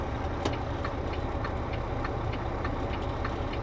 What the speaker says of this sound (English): So it's actually just the perfect amount of engine noise and truck noise.